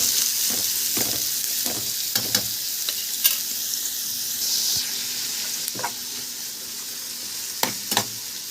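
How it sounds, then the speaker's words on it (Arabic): Sliced onions frying in a pan, a steady close sizzle broken by repeated scraping stirs, with no talking. "هقلب فيها بقى لحد ما تاخد اللون الحلو الجميل."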